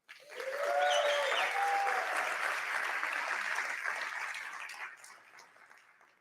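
Audience applause at a CEO competition, a single round of clapping that swells quickly, holds steady for several seconds from a moderately distant crowd, then tapers off.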